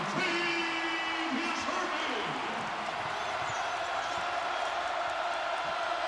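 Arena crowd at a Kansas at Kansas State college basketball game cheers after a basket, a broad steady roar that stays loud throughout with bursts of whoops on top.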